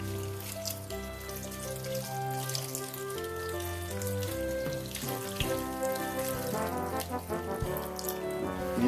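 Filtered water runs steadily from a tap into a pot for beef stock, a continuous splashing stream heard close up over background music.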